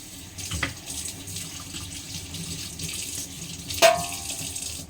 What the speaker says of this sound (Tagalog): Tapos na ako maghuhugas.